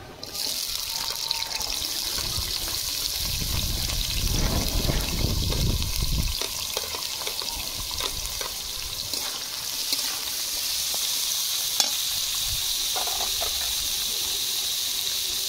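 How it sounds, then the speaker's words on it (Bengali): Carrots frying in hot oil for restaurant-style fried rice give a steady, bright hiss like running water. A low rumbling burst rises midway, and a faint click comes near the end. No voices are heard. "তেল গরম হয়ে গেছে, গাজর দিয়ে দেবো।"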